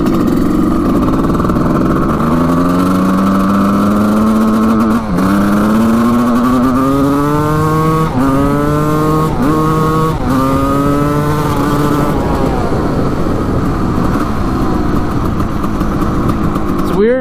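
A 1989 Suzuki RM250 dirt bike engine revs up and down repeatedly, loud and close, with rising and falling pitch sweeps as the throttle is blipped, sounding bogged in the low gears.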